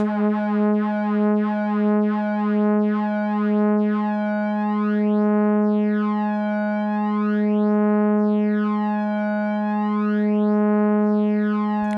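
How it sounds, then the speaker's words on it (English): A pure, steady modular synthesizer sine tone, patched with Joranalogue Audio Design modules, held for several seconds, with a gentle slow sweeping wobble in its brightness. "Or maybe I should take a sine wave."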